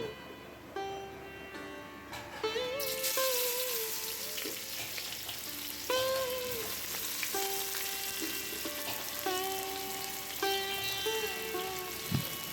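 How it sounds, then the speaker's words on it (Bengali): Sliced onions fry with whole garam masala in hot oil for a traditional dal mutton, a steady close sizzle, while intermittent metallic tones ring over it. "পেঁয়াজটা আমাদের ভালো করে বাদামি করে ভেজে নিতে হবে"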